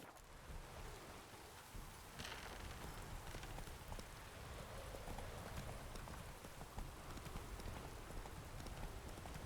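Roach, the horse in The Witcher 3, gallops with a quick, steady clip-clop of hooves over a soft rain-like hiss. The sound is faint and continuous throughout, with no voices.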